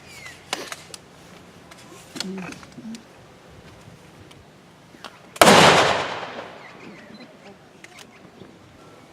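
A single sharp gunshot cracks out at an Anzac Day dawn service, loud and near, its echo trailing off over a quiet outdoor setting with faint birds and scattered small sounds.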